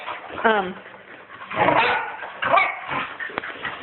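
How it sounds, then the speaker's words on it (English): Dogs scuffle and play roughly with short barks, yips and whimpers, mixed with a person's voice talking over the commotion. "I want her to stay in there for a little bit while these dogs are being rough"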